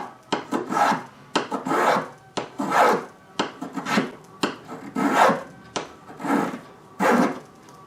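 A hand tool shaves wood for an archtop guitar bridge in close, repeated rasping strokes, each one a short scrape in an even rhythm.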